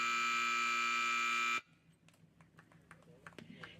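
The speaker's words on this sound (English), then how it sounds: "about to have the buzzer." An electronic buzzer sounds at a sheep trial competition, one loud steady tone held for about a second and a half. It cuts off abruptly, and quiet arena ambience and faint clicks follow.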